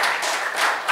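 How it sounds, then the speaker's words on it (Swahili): Applause from a large congregation at a Swahili Lenten Sunday Mass, a dense, steady wash of many hands clapping close by that swells toward the end. "Clap for yourself."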